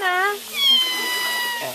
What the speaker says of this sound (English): there's our little cat